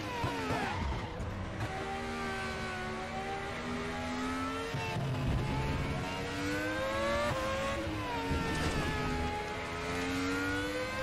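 Race car engine in the Raceroom Racing Experience sim game, revving and shifting through gears with rising and falling pitch, loud and continuous, with some tire noise and no talking.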